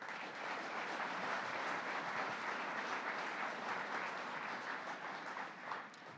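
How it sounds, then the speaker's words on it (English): An audience at Governor Cuomo's Northland Workforce Training Center announcement breaks into sustained applause, a thick, even roar of many clapping hands heard from some distance, lasting the whole stretch without speech. "let's give them a round of applause"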